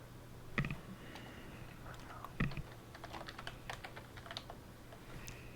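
Typing on a computer keyboard, with quiet scattered key clicks in irregular short runs against low background hum, close but faint.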